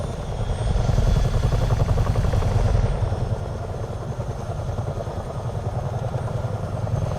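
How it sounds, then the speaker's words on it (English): Simulated helicopter in Microsoft Flight Simulator 2024, a steady loud rotor and engine drone with a low pulsing thump that holds throughout, slightly louder in the first few seconds. "It's a helicopter."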